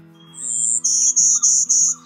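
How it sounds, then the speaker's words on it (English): A golden-winged warbler sings a thin, high buzzy phrase: one drawn-out buzz followed by three shorter, evenly spaced buzzes, loud and close over a faint steady hum. "There it is, the golden-winged warbler, bee buzz, buzz, buzz"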